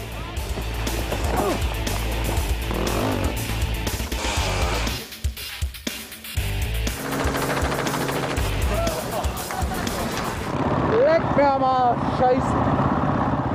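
Off-road motorcycles race at the Erzberg Rodeo, their engines snarling and revving across a busy, loud scene, with a voice talking over them throughout.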